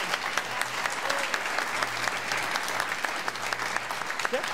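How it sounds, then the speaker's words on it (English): An audience at a spring school band concert applauds the band award winners: steady, dense clapping from a crowd that carries on evenly throughout, with a faint low hum underneath. "One more round of applause for the award winners."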